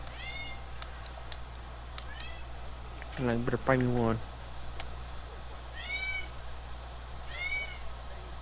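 Several cat meows from The Sims 4 game, a short cluster of loud overlapping yowls in the middle with softer meows scattered before and after, as someone talks over them.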